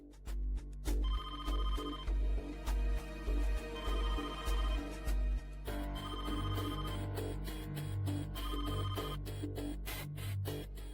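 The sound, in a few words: telephone ringing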